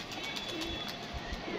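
A pigeon comes down onto a rooftop, while faint cooing and scattered soft bumps sit over a steady background hum at low volume, with no voices.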